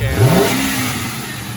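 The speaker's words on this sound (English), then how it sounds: "Here's the engine running." A 2004 Ford Mustang GT V8 with cable throttle runs with a loud, steady engine roar and a brief rise in revs near the start, close up.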